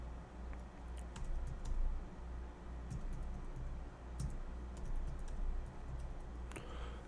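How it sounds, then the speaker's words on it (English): Keys clatter on a computer keyboard as a new password is entered, a steady run of soft, close clicks with a few sharper taps, continuing throughout with no voices. "So I just typed in a new password,"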